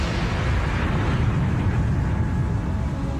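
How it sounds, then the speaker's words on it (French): A deep, sustained rumbling blast rolls on steadily for several seconds, a dense low roar standing in for a type 1 supernova explosion, heavy and unbroken from start to finish. "elle risque d'exploser en supernova de type 1"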